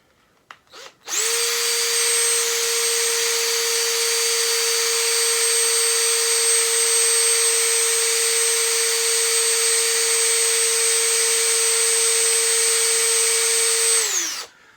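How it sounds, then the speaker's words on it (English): A power drill bores into metal while building a cigar box guitar, spinning up sharply and holding a loud, steady high whine for about thirteen seconds before winding down and stopping. "I have a tendency to push too hard on these drill bits, and I know you can break them when you're going into metal."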